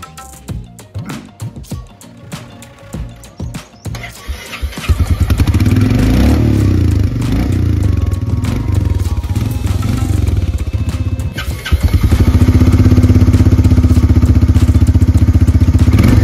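A 2024 Royal Enfield Meteor 350 Fireball single-cylinder motorcycle starts after some clattering and handling noises, then settles into a loud, close, steady thumping idle with a brief dip and a fuller throb near the end.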